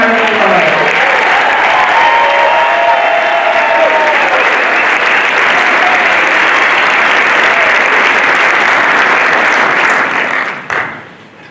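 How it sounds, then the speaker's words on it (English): A large crowd at the 2023 Saranac Lake Winter Carnival coronation gives the carnival choir sustained, loud applause with scattered cheers, steady for about ten seconds before fading abruptly. "Let's give a big round of applause to our Winter Carnival choir."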